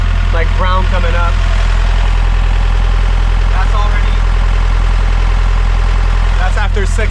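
A sailboat's engine idles steadily and loudly, with a heavy low rumble throughout and voices talking faintly over it.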